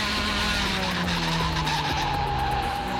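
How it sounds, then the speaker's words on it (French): Tires skidding and squealing as wheels lock under hard braking on a race car at Le Mans, a loud sustained screech over steady engine roar, drawn out for the whole stretch. "les roues elles bloquent."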